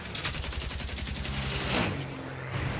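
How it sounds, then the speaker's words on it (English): A Lancaster bomber's turret machine gun fires a rapid, continuous burst of loud, evenly spaced shots over a roaring background, with no pause across the whole stretch. "The remaining turret fires with all he has at the 190"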